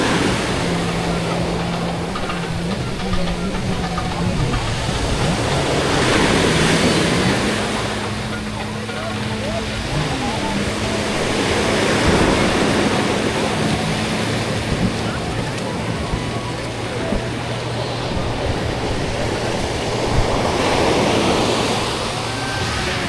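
Strong sea waves and surf rolling onto a beach in Lebanon, repeated loud wash-ins every few seconds with a constant roar, wind buffeting the microphone and a faint low engine hum underneath.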